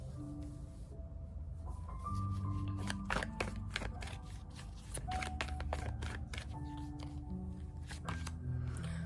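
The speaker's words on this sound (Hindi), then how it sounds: "अभी मेरी शफल कंप्लीट नहीं हुई है, तो अब लेते हैं कार्ड्स।" Tarot cards being shuffled, a steady series of close, crisp card snaps and riffles in uneven bursts, with a faint tonal hum running underneath.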